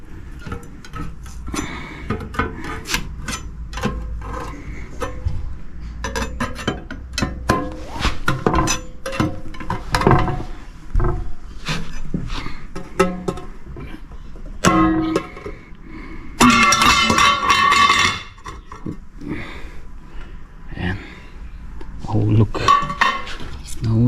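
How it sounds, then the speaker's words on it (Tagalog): A mixture being stirred in a container by a carpenter's tool on a job in Australia, giving busy scraping, clinking and knocking strokes in an irregular rhythm that continues throughout, with a voice talking at times. "ang unang gagawin natin ay haluin muna natin"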